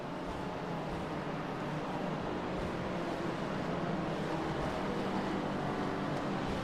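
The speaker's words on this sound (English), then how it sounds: "the engine was low revs, so listen into this" A race car engine in the video game iRacing drones steadily at low revs after a spin, a continuous rumbling hum with no speech.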